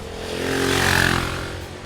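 KTM 690 Enduro single-cylinder motorcycle engine, a loud, close rasping drone that swells and then eases in a brief pass.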